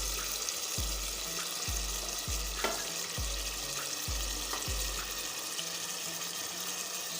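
Boiled chana dal tipped into hot, frying masala sets off a steady sizzle, with a series of low, regular thumps recurring about every second as portions go in, fairly quiet and with no talk.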